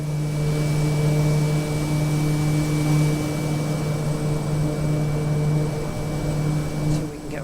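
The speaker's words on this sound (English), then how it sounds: "Nice and quiet, these planes." Kodiak 100 single-engine propeller plane in Microsoft Flight Simulator, a steady, loud, even engine drone with a strong low hum and constant broadband roar that holds unchanged throughout.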